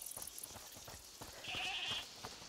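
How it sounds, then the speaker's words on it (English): A goat bleats inside a locked house in the video game A Plague Tale Requiem, a few wavering calls standing out near the middle over a quiet, rustling background. "Is that the goat you talked about?"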